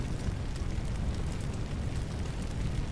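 Steady, dense hiss of a fire extinguisher spraying in the firefighting game Firefighting Simulator: The Squad, a continuous loud rushing roar with no pauses over the whole stretch.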